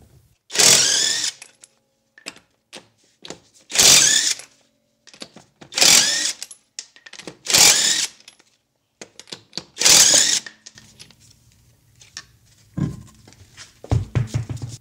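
Cordless brushless impact wrench from Alloyman hammering at a wheel bolt in five or six loud, sharp rattling bursts about two seconds apart, close by, each stopping abruptly, with quiet gaps and light handling clicks between.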